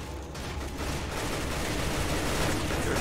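Rapid gunfire from a Roblox rBreach shooter game sounds as a continuous, dense burst of shots, loud and close with no pauses and no talking over it.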